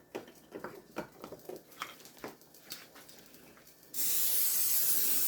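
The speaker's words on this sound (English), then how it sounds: "we're going to need a baking dish. Spray it real good." Cooking spray hisses into a baking dish in a home kitchen: a loud, steady aerosol spray starting partway through, preceded by soft clicks and handling noises.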